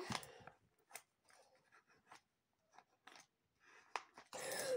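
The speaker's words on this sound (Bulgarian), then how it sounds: "Сега ще пиша." Ballpoint pen scratching across notebook paper in short bursts and strokes, close and quiet, with pauses between scribbles and a louder rustle at the end.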